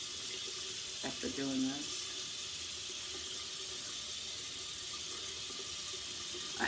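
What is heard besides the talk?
washing makeup brushes under running tap water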